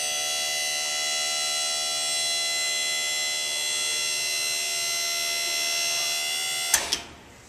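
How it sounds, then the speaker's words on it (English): Electric hydraulic hoist on a dump trailer powering up, a loud steady motor whine with strong harmonic tones that holds for several seconds, then cuts off with a couple of clunks at the end. "If we run this up, this is a power up, power down hoist as well."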